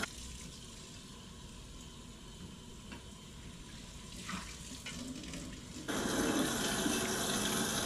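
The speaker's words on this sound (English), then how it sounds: "So we're cleaning the frying pan." A frying pan is washed under a running tap in a home kitchen: a steady, moderate wash of flowing water that swells noticeably louder and brighter partway through, with no talking.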